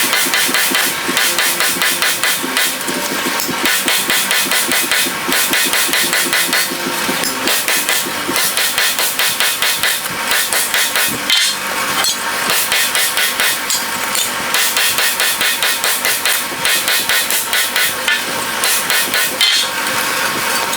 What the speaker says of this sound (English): We'll probably hammer in the center again, stretch that center